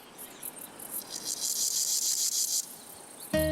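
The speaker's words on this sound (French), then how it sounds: "Les sauterelles mâles annoncent haut et fort leur disposition à s'accoupler." Male grasshoppers chirp in a meadow, a dense buzzing trill that swells steadily from faint to fairly loud and then cuts off near the end, followed by a brief different tonal sound.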